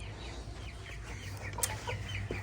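Several chickens cluck nearby in a coop in short, scattered calls over a low steady background hum.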